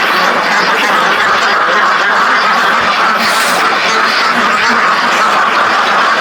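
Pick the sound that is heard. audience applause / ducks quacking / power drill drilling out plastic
ducks quacking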